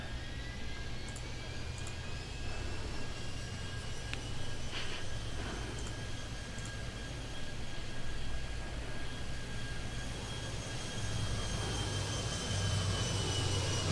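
Airplanes taxiing and landing in the airport-control game Airport Madness 3D, a steady low engine rumble and whine holding throughout at moderate level.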